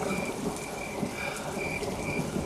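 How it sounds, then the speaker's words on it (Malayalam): Heavy rain pours down steadily, a dense, continuous hiss of drops hitting surfaces that stays loud and even throughout, with no voices. "ഇതൊരു നശിച്ച മഴ തന്നെ. ശക്തി കൂടി കൂടി വരികയാണ്."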